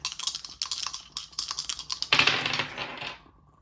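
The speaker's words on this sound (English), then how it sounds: "Let's roll some dice here." Tarot dice rattle and click in quick succession, ending in a brief clattering tumble that fades out, close and fairly loud.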